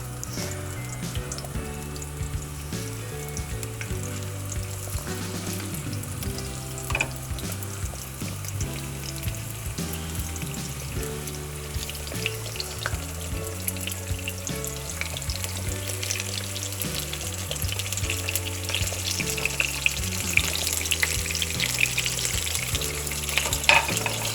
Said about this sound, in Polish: Jak widzicie, ryba od razu zaczyna się smażyć.